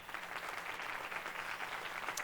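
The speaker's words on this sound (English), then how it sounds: "Please help me thank them all for their service with a round of applause." Audience applause at a high school graduation ceremony, a brief, fairly faint patter of scattered clapping from a crowd heard from a distance, with no talking.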